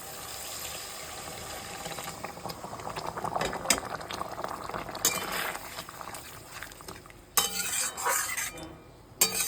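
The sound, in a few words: hot water poured into cooked spice paste, boiling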